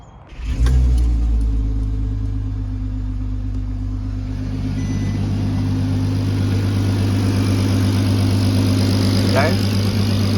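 A turbocharged MK5 Golf R32 fitted with a custom 3-inch exhaust fires up and settles into a steady, deep, smooth idle, loud and close, with a brief rise in revs near the end.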